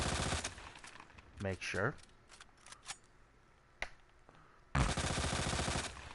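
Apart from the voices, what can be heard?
gunshots in video game Resident Evil 2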